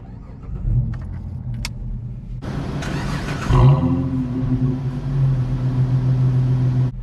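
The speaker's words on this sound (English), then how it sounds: "Sounds pretty good." A 2010 Dodge Charger SXT engine cranks and catches around mid-clip, then settles into a steady idle rumble after some keys jingle and a click.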